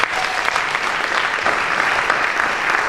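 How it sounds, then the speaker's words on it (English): An audience at a drum set recital applauds a student drummer, a dense, steady wash of many hands clapping together, loud and close, with no voices standing out. "Let's give Emma a round of applause"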